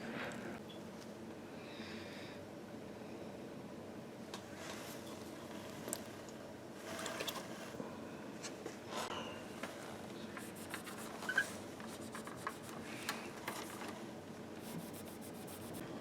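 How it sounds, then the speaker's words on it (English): Cleaning a circuit board from a restored HR-16 drum machine with isopropyl alcohol, a soft, steady rubbing and scrubbing close up, continuous and low with a few brief scratchy bursts, no talking. "After rubbing isopropyl alcohol on this circuit board, you can see the dirt that's coming up."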